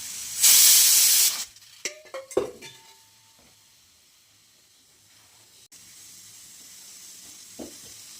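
Oil hisses loudly in a kadhai for a moment, then gives way to clinks of a spoon and utensils with a faint lingering sizzle, no voices.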